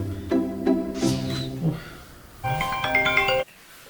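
A mobile phone plays a melodic ringtone, bright tonal notes in two short phrases separated by a brief pause, close and clear before cutting off abruptly.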